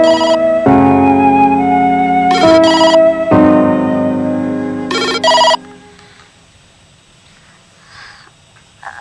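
A telephone ringing loudly in two electronic melodic bursts, each a bright tonal ringtone phrase with a short gap between, then fading into quiet room tone.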